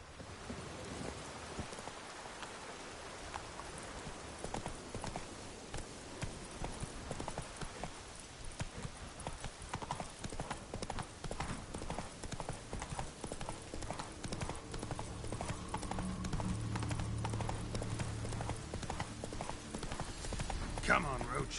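In The Witcher 3, the horse Roach trots with a brisk run of hoof clip-clops through steady falling rain, which grows fuller toward the end, with a voice heard at times.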